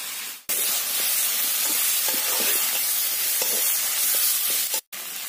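Garlic paste hitting a pan of pigeon meat and potatoes frying in oil, setting off a loud, steady sizzle and hiss close up, with faint stirring clicks underneath and brief cuts at the start and end.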